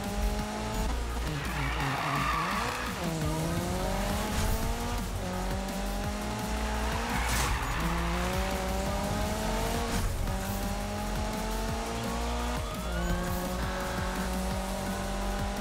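Racing cars in Need for Speed 2015 roar with rising and falling engine revs, gear changes and tire squeals, steady and fairly loud without talk.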